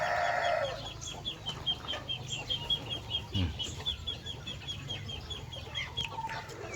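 Hens on a small Lao farm raised alongside rabbits and ducks cluck in short, repeated bursts at close range, over a steady rural background hum.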